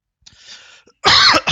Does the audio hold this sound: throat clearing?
yes